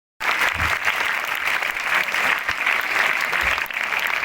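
A crowd at a school Independence Day cultural program in a village government secondary school applauds merit students, sustained loud even clapping starting abruptly after a brief silence and continuing throughout.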